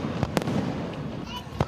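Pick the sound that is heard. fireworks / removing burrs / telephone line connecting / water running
fireworks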